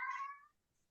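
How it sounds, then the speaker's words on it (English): A pet cat indoors gives a single short, clear meow that fades quickly into near silence, close and fairly faint, heard alone. "sorry, that's my cat"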